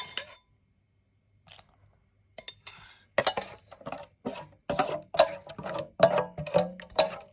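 A spoon scrapes and clinks against a bowl while mushroom and pork mixture is stirred, with a few sparse taps first and then a steady run of sharp, close clinks in an irregular rhythm.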